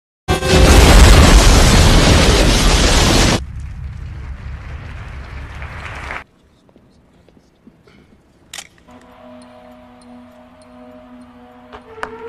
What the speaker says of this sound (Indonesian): tetapi tak lama sebuah bom meledak